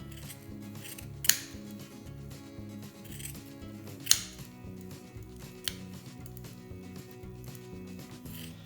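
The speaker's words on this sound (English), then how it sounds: "what we need to do now is cut the ends of the tassels. So just use your scissors" Scissors snip through the twine tassel ends of a wooden bead garland, a few sharp distinct cuts standing out among quieter rustling and handling of the twine, close up with no talking.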